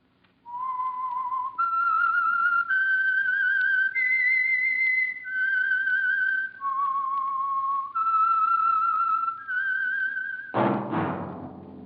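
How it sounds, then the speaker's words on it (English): A single person whistles the slow signature tune of the 1946 radio program The Whistler, long held notes that step up and down, ending in a brief burst of noise. "That whistle is your signal for the Signal Oil Program, The Whistler."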